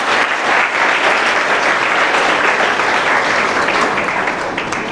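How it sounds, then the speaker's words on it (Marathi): Sustained audience applause at a school yoga competition gratitude ceremony, loud and steady clapping from a large crowd throughout, tapering slightly at the end, with no speech. "टाळ्या वाजवून याचं स्वागत करा."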